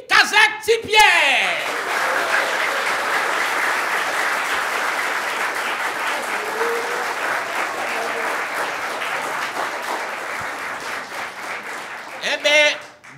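Applause from a live show audience, sustained steady clapping that swells at the start, holds evenly for several seconds, then rises again near the end, with a voice heard briefly over it.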